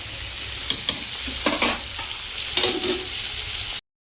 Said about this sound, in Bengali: নুন আর হলুদ দেবো দিয়ে আর একটু ভাজা ভাজা করব